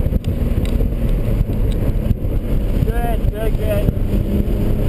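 A car engine drones loud and steady while accelerating around the Laguna Seca track during a high-performance driving session, heard from inside the cabin with heavy wind and road roar and a voice talking over it.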